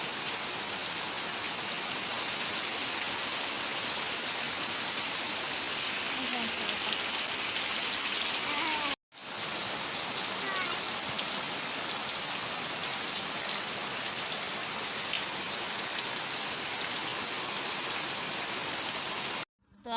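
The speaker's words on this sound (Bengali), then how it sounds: "এই যে ঝমঝম করে বৃষ্টি শুরু হয়ে গেল" Heavy rain pours steadily onto surfaces outside a home, a dense, even roar that fills the scene, breaking off briefly midway before resuming just as hard.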